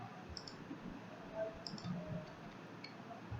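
Soft clicks of a computer mouse at a desk, a few faint separate taps over a steady low room hum, with no talk.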